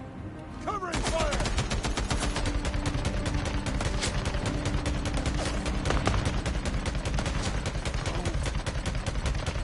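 Sustained automatic gunfire in Days Gone Remastered, dense rapid volleys running almost without pause, loud and close, with a firefight's shots layered over one another and faint voices mixed underneath.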